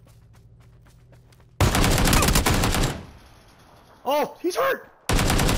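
Video game gunfire comes in loud, close bursts: a long rapid volley, then a brief pause and a sharp final burst, with excited players talking over voice chat in between.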